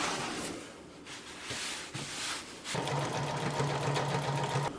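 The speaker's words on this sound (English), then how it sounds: "Now we're gonna put a decorative stitch up here on the top at the same 1/2 inch." Sewing machine running a decorative stitch along a 1/2 inch seam on replacement patio chair fabric, with short bursts that give way to a steady, continuous close whir.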